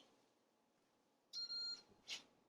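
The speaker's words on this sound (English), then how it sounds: "that's just beeping to tell me that the pot's out of the thing there" Two short electronic beeps from a Ninja Possible Cooker after its pot is removed, the first a steady tone, the second a quick chirp, in an otherwise quiet room.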